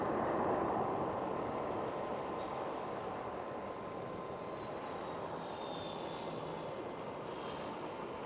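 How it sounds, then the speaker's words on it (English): Jet engines of a KLM Boeing 777 at Amsterdam Schiphol airport produce a steady, broad roar that holds evenly for the whole stretch, with a faint whine riding above, no voices. "enjoy your flight with KLM 777, one of the newest KLM 777 jets out there"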